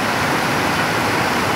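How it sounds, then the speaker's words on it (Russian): A mountain waterfall on a turbulent river near Pirassununga, Brazil, pours in a dense, steady rush of broadband noise, loud and unbroken. "в горный водопад"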